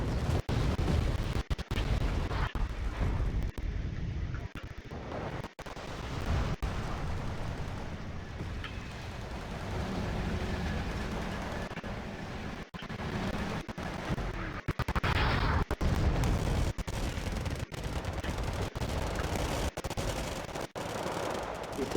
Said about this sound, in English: That's the Rattel 60 firing those mortars.